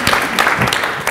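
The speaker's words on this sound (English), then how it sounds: "I'd like to give her a round of applause for that" A brief burst of audience applause at a film festival panel, scattered hand claps blending into a short round, moderately loud and close.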